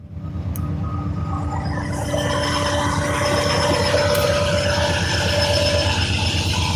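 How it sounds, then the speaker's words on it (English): A train rolls past a fishing lake, fading in quickly and then holding a loud, steady rumble with rhythmic wheel clatter and a faint metallic squeal. "And here comes another train."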